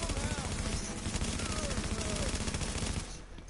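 Rapid automatic gunfire from The Division video game rattles in a dense, continuous burst for about three seconds before cutting off, with a player talking over it.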